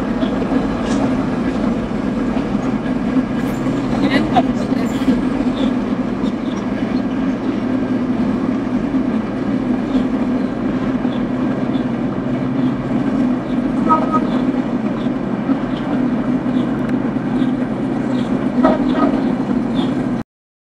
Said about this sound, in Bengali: বাড়ির ছাদ থেকে দেখতে পেলাম বাড়ির সামনে যে আবার সেই ট্রেন যাচ্ছিল